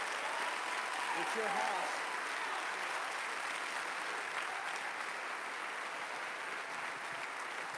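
An Alabama church congregation gives steady, warm applause welcoming Pastor Doug Clay at a district council, with someone speaking briefly over the clapping.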